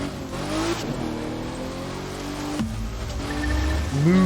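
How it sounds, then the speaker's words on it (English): A car engine in The Crew 2 video game revs and shifts through gears, pitch climbing and dropping in repeated sweeps, loud and close with a rising surge at the end. "This is not the car you would be driving out here."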